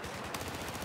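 Rapid burst of MP7 submachine gun fire in the shooter game Battlefield 4, a quick rattling automatic string of close shots, loud and unbroken, with no talk over it.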